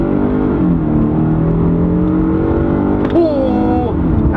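A front-wheel-drive Lincoln car pulls hard through its gears, a loud, close engine drone with a brief dip and rise at each shift, heard from inside the cabin.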